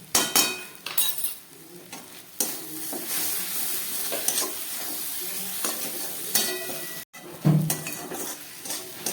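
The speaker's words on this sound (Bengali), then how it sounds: "মশলাটা খুব ভালোভাবে মিশিয়ে দিলাম" A spoon stirs ground spices through a sizzling pan for a lentil curry, steady scraping and frying hiss running close and continuous, with occasional clinks of metal on the pan.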